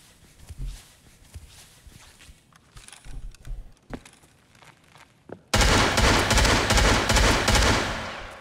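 Gunfire in the video game Escape From Tarkov: scattered shots and movement sounds, then a sudden loud, dense burst of automatic fire filling the last few seconds.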